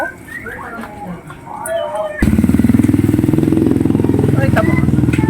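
A motorcycle passes nearby, its engine cutting in abruptly and holding as a loud, steady pulsing drone for several seconds after a quieter stretch of street ambience, with people talking faintly.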